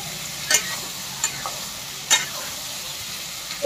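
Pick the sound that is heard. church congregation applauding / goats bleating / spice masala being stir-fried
spice masala being stir-fried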